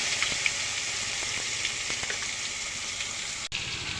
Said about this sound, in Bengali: এই এখন মশলাগুলো কষাইতেছি।